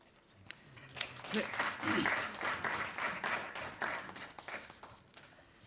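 Audience clapping at a university professorial inauguration, building from a few claps into a moderate round of applause that gradually tapers off, with some indistinct voices mixed in.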